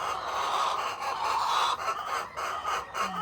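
Chickens cluck steadily over a continuous, moderately loud barnyard backdrop of bird noise, with no voices, in a flock of regularly laying hens at a home yard.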